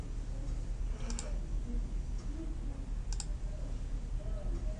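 A computer mouse clicks twice, sharp and close, about two seconds apart, over a steady background hiss and faint murmuring voice.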